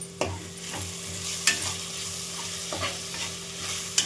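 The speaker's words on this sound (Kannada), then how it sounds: "ಇದನ್ನೆಲ್ಲ ಚೆನ್ನಾಗಿ ಬಾಡಿಸ್ಕೊಳ್ಳೋಣ." Whole spices, biryani masala and garam masala for methi pulao are stirred in hot oil in a pan, with a soft steady sizzle under sharp, irregular scrapes and taps of the spoon.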